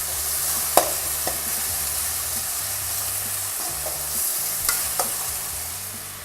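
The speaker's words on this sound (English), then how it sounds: "The tomatoes are nicely sauteed. You can see the oils coming out of the sides." Tomatoes sauté in oil for an urad dal curry with a constant soft sizzle and hiss. A few faint clicks from stirring sit over a low hum, and no one speaks.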